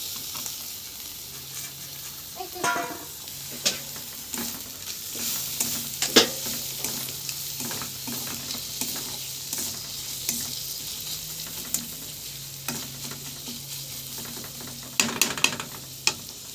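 Chopped tomatoes added to a frying pan of spiced cabbage and chickpeas, with a soft continuous sizzle under scattered scraping and clinking stirs of a spatula against the pan, sharper clatters near the start and end.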